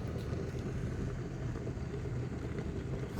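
A Kitfort KT-648 electric kettle at a rolling boil, giving a steady low rumbling churn of bubbling water that holds at an even level close by, with no talk.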